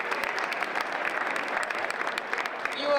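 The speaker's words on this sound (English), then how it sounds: "I'd like to give a round of applause for Tom Mahoney" Steady applause from an audience at a Framingham Democratic town caucus, dense clapping that holds evenly throughout with no voices over it.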